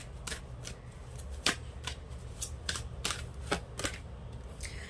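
Tarot cards being shuffled, sounding as a series of sharp, crisp riffling flicks in an irregular rhythm, close and moderately loud against a quiet background with no talking.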